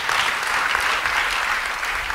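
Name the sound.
congregation applauding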